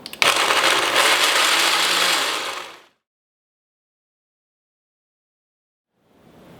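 A blender gives salsa ingredients for sweet pork street tacos a quick spin: a loud whirring burst of under three seconds that winds down into silence, then a faint rustle.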